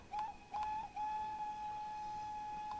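A train horn in Train Sim World 3 on the Peak Forest Railway sounds two short blasts followed by one long sustained whistle, clear and steady over quiet cab noise.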